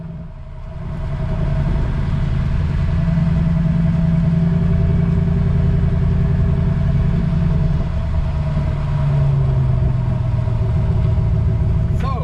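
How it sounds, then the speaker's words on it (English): Cabin drone of a pickup truck cruising down the road while towing a trailer on a weight distribution hitch, a steady low engine and road rumble holding constant throughout. "how about some impressions from behind the wheel of the truck as I drive down the road?"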